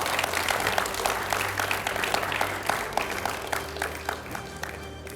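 A studio audience at a televised Hindi political debate gives loud, sustained applause to Congress and BJP spokespersons: dense rapid clapping that runs evenly throughout with no speech.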